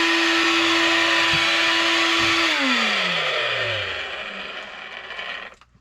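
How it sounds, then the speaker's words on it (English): A vacuum cleaner hums at a loud, steady pitch, then its motor winds down with a falling whine and fades out near the end. "once in a while this vacuum cleaner needs deployed too"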